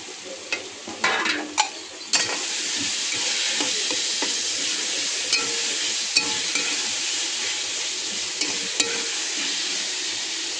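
Onion and tomatoes sizzle steadily in a pan for palak paneer, with a constant close frying hiss broken by a few sharp stirring clicks and utensil taps, no talk.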